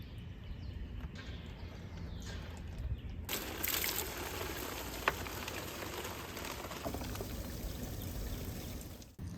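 Bleach pours into an Airstream travel trailer's fresh water tank as a steady, soft splashing trickle, close and fairly quiet, running for several seconds with a slight rise midway.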